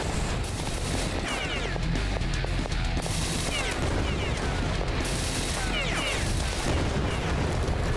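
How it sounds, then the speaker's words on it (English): Repeated blasts and gunfire from a rocket launcher in the video game Beyond Citadel, loud and dense throughout with several sharp bursts over a constant rumbling mix. "I'm just gonna use my rocket launcher"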